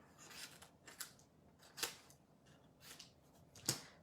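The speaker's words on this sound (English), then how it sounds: "Let's get my little trimmer. Let's trim" A small trimmer cuts down material in a handful of separate crisp snips, a few spread irregularly across the moment, close and fairly quiet in a still room.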